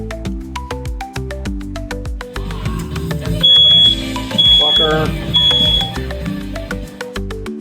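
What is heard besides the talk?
smoke alarm going off while cooking bacon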